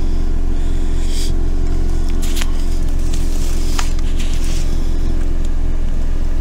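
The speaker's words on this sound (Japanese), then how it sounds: "車エアコンの音かな。 でも何そんなでかい音なの、ブーって。" A car's air conditioner or heater drones with a loud, steady low hum that never lets up, with faint higher rattles and clicks scattered on top.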